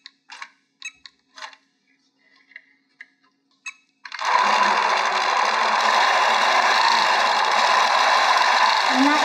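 Qnique sewing machine pulling up the bobbin thread: a few soft clicks and taps at first, then the motor starts and runs with a steady, close whir to the end.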